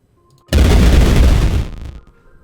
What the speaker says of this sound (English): We have blocks that explode in a chain reaction now